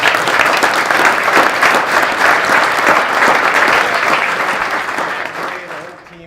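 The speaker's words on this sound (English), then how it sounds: "I want everybody to give a big round of applause for our panelists" Loud, sustained round of applause from a conference audience for the panelists after a panel discussion, dense continuous clapping that tapers off near the end.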